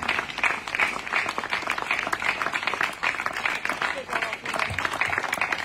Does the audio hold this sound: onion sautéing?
no